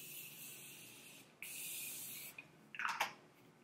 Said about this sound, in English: I tend to take my Morphe Continuous Setting Spray, and I kind of spray my face